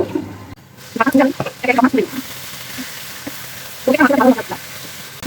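Fish frying in hot oil in a pan, a steady, fairly close sizzle that runs underneath a person talking at intervals.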